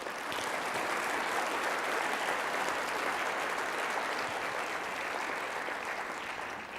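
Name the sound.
applause for the mayor and superintendent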